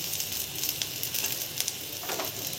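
Onion and coconut fry in hot oil for a shev bhaji masala, making a brief, even, crackling sizzle with a few soft spatters, heard close and without speech.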